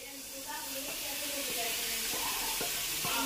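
Grated ivy gourd sizzles and hisses steadily in a hot pan, a continuous close frying crackle with soft stirring sounds and brief speech mixed in.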